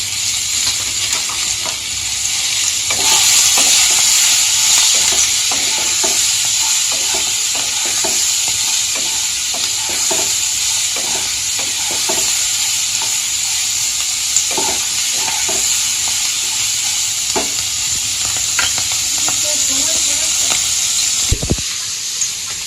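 Potatoes and peas frying in a pan in a village kitchen give a steady, loud sizzle, broken by repeated scraping stirs of a spatula throughout, with no talking.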